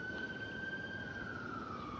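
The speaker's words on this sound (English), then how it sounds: "And you hear sirens right now," A siren wails steadily in the distance, its tone sliding slowly downward over a constant low rumble of outdoor noise.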